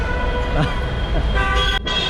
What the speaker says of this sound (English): as you guys can hear, the honking sound is clearly back